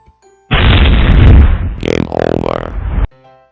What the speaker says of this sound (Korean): 폭발음이 나고 약간의 딜레이 후에 게임 오버라고 멘트가 나오고 있습니다